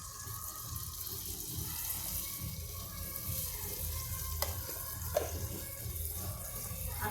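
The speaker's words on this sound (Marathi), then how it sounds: "आता ही आमटी उकळते आहे" Fenugreek dal amti with tamarind-jaggery chutney boiling in a pot, a continuous soft bubbling and watery simmer heard close and low, with a couple of faint clinks and no speech.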